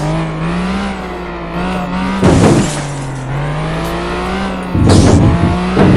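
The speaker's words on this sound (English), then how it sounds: "This blue car is going way too fast." A blue car speeds in a police simulator video game, a loud engine whine with shifting pitch, broken by two short bursts of crashing or screeching noise.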